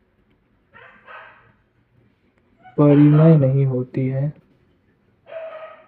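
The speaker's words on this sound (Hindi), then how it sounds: "ये कुत्ता भौंक रहा है यार" A dog barks a few short times, indoors or nearby, while someone speaks during a Hindi-medium class 9 mathematics lesson; his voice louder than the barking.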